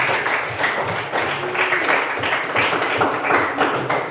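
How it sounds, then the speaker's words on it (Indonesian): Students in a school classroom clap for a group, a short burst of uneven, close hand claps with some tapping, loud and continuous with no speech over it. "tepuk tangan dulu untuk kelompok 2"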